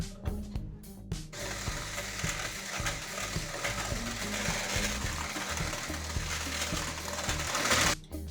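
Electric mixer whirring steadily through carrot cake ingredients, a continuous mechanical drone with rhythmic gear-like chatter that holds for several seconds before stopping near the end.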